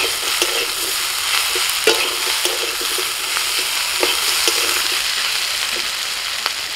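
Ginger-garlic paste frying in a pan, a steady bright sizzle with scattered sharp crackles and a few soft stirring knocks throughout, close and fairly loud, no voices.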